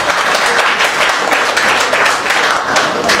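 Loud, dense applause from an audience at a Paris album launch, a steady wash of clapping with no let-up across the whole stretch.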